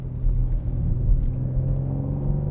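A BMW M3 Touring drives up a mountain road, and its engine gives a steady, low rumble heard from inside the cabin. The drone stays even, with brief swells.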